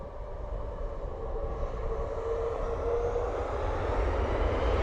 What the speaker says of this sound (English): So, Ryanair off the Krakow. 737 MAX 8.